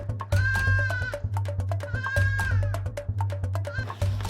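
Etawa crossbreed goats on a farm bleating loudly and close, with several long wavering calls and shorter bleats overlapping above a steady low hum.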